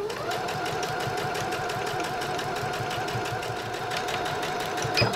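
A sewing machine runs steadily, stitching a drawstring channel along a fabric bag with a fast, even needle rhythm that barely changes, ending with a brief clack near the end.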